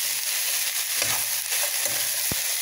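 Pork sizzling and frying in a pan, a steady hiss with occasional stirring scrapes and pops, close and alone.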